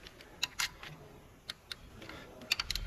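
A torque wrench clicks sharply on the 10mm ignition coil bolts of a 2019 Hyundai Tucson 1.6L petrol engine, a handful of quiet, close metallic ticks spaced irregularly over a low background hush.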